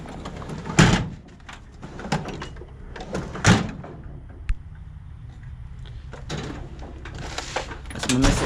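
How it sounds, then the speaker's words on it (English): A drawer in a small engine repair shop slides and bangs open and shut several times, with sharp knocks and rattling contents spaced between bursts of someone talking. "That's my miscellaneous drawer."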